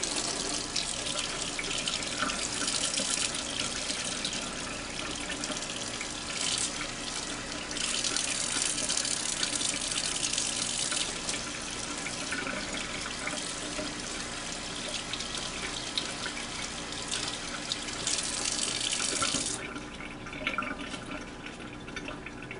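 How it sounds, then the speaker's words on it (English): Water runs steadily from a tap as oil is rinsed off a sewing machine motor, a continuous hiss and splash that swells in places, then drops to a softer trickle near the end. "I'm going to slowly try and rinse this off."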